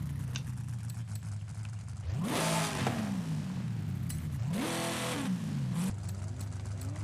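A Plymouth Belvedere fitted with a Hellcat engine in the racing game Forza Horizon 5 revs hard through two rising bursts with gear changes, a loud V8 roar swelling over a steady engine drone, no voices.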